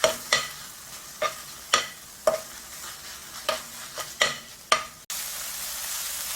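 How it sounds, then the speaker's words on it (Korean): Tofu is stir-fried dry in a pan with no oil, heard as a series of sharp spatula scrapes and tosses with soft sizzling between them, close and alone, ending in a steady hiss. "그냥 수분만 날려주기 때문에 이렇게 해서 수분 날아갈 때까지 잠깐만 볶아주세요"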